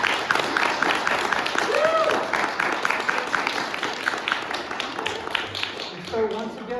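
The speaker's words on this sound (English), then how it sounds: "That was a good trick. Big round of applause for my uncle." Audience applause and clapping after a magic trick, a steady wash of many hands filling the room, with speech carrying over it throughout.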